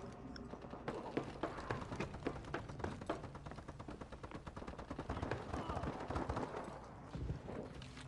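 Rapid gunfire crackles almost without pause through a Call of Duty: Advanced Warfare match, bursts of automatic shots layered over one another, loud and close, with players talking over the shooting.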